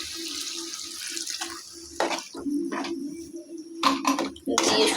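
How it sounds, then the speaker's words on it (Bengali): Water splashes and pours into a pot of jackfruit curry in a home kitchen, with a steady running stream and a few louder gushes near the end. "তো আমি এখন পানি দিয়ে দিচ্ছি"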